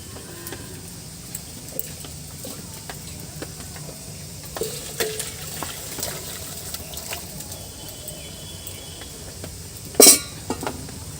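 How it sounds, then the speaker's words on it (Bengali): Fish pieces and potatoes fry in a pan over high flame for a Bengali fish curry, giving a steady sizzle with scattered clinks and scrapes of stirring and one sharp clatter near the end, without any talk. "তোমরা দেখতে পাচ্ছ একদম হাই ফ্লেমে জাল করছি আমি"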